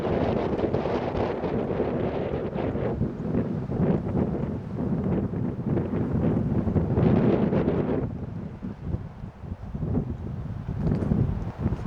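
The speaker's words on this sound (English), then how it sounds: "Well, the smoke went away, but the wind didn't." Strong wind gusts roar and buffet the microphone at a mountain backpacking camp below Taboose Pass, a continuous loud rushing that eases slightly near the end, with no voices.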